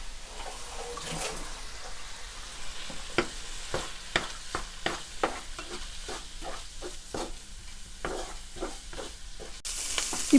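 Prawns frying in a pan with turmeric and chili powder, a steady sizzle broken by a series of sharp scraping stirs at irregular intervals, close and clear with no voices.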